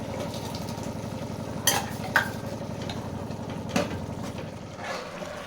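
Ground masala frying with mushrooms in a pan makes a steady low sizzle. A spoon stirs it, and a few sharp clinks of utensil on metal ring out over the frying.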